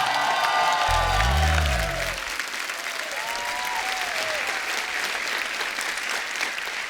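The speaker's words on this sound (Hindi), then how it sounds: "जोरदार तालियों से स्वागत होना चाहिए।" A television comedy show's studio audience welcomes guests with strong applause, a dense, continuous clapping that fills the whole stretch, briefly overlapped at the start by a tonal musical sting.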